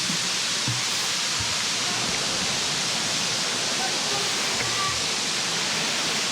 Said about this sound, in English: there's also that river leading down to the other side